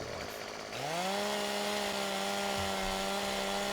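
A chainsaw in the video game Farming Simulator 15 starts up after a brief pause and settles into a steady, droning whine as it cuts down a tree, with a faint thump partway through.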